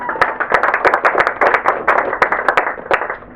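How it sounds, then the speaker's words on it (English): Audience applause at a live event on internet governance challenges, with ICANN among the sponsors: steady close clapping from a room full of people with sharp individual claps on top, fairly loud throughout. "So a big applause to them."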